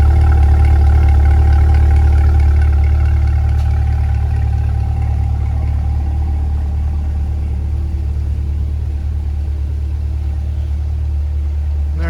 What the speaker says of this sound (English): exhaust note for you